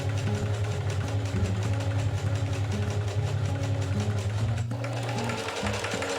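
A sewing machine runs a straight stitch over the seam of a joined fabric strip, producing a continuous, evenly pulsing motor hum with rapid needle clatter that carries on without pause.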